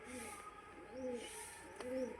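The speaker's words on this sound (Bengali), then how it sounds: "পায়রা দুটোকে ছেড়ে দেখাবো" A pair of pigeons coo softly at close range, two short rolling calls about a second apart, faint in a quiet room.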